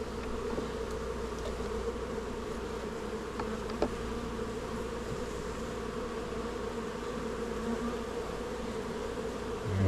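Honey bees buzz steadily around an open hive during an inspection, a dense continuous drone close to the listener with no talking.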